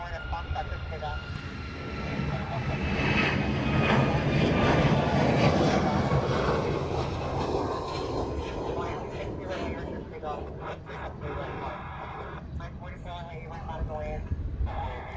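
A Boeing 717 jet airliner roars at Honolulu airport in Hawaii, its engine noise swelling and then slowly fading over about fifteen seconds, with a voice talking throughout.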